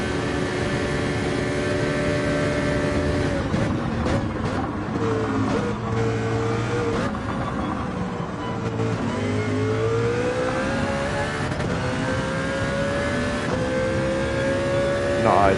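Mercedes CLK race car in Gran Turismo 7 at Circuit de la Sarthe, its engine droning steadily down a long straight with pitch rising and dipping through gear changes, loud and continuous.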